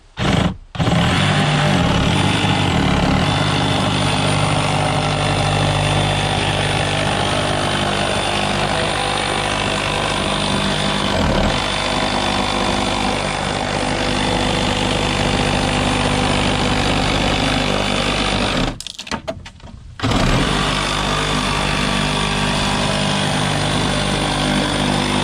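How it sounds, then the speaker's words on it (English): Dewalt FlexVolt power tool cutting wood for a firewood bin, a loud continuous motor drone and cutting roar running nearly the whole time with a brief stop near the end. "now I'm gonna trim this off using the one flex volt tool I have left"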